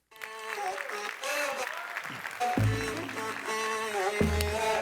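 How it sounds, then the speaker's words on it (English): An audience applauds a speaker at a sales-training event on converting leads, with steady clapping running under music and voices throughout the short stretch. "So I want you guys to give a big round of applause for Dan Jones."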